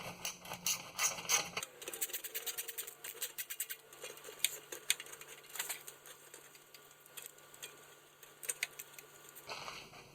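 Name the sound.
tool running bolts up on transmission pan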